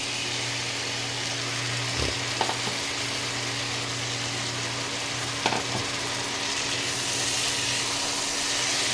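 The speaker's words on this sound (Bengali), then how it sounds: "এইবারে এই ভাজা তাহলে কাঁঠালের দানা আর আলুটা দিয়ে দেবো।" Jackfruit seeds and potato fry with spices in a pan for a prawn dish, making a steady close sizzle throughout with a couple of brief utensil knocks.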